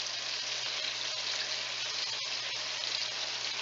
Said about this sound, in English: we're going to fry them until they're crispy and light brown